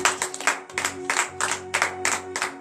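Congregation clapping in acclamation during a Saturday morning prayer service in Benin, a steady series of rhythmic group claps with a faint tonal hum underneath and no voices.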